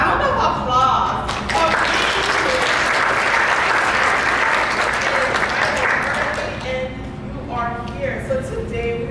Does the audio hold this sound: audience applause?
yes